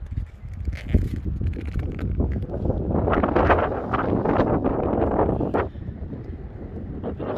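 Strong wind roars and buffets the microphone steadily, a loud rushing noise with gusty surges throughout.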